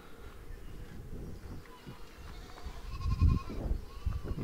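Tethered goats at a village homestead in the Nepali hills bleat during the rainy season. The calls are fairly close and repeated over outdoor background noise.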